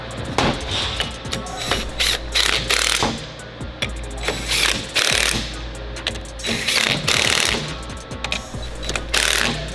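A ratchet tightens nuts onto bolts while installing a leveling kit on a Nissan Titan, giving close, loud bursts of rapid clicking in repeated strokes with brief pauses and occasional metallic knocks, no voices.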